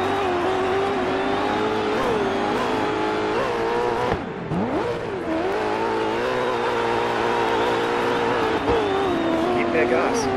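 A race car engine revs and accelerates steadily during a Landrush off-road race in DiRT 4, its loud, droning tone rising and falling throughout, with a brief dip midway and a voice talking over it.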